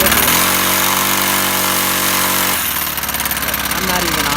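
A motorized bicycle engine with the clutch on the tire runs loud and steady at full throttle while the bike stands still, its pitch shifting midway through, with a voice talking over the constant engine roar.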